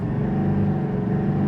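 A 2025 GMC Sierra 2500 AT4 heavy-duty pickup pulling away from a stop, the engine a steady, dense, low drone building under load without a break.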